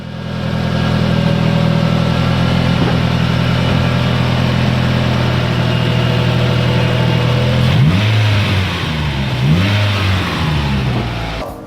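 A restored engine, newly fired up after long repairs, runs steadily and loudly close by, a strong continuous rumble that rises and falls in a few revs toward the end, with no voices.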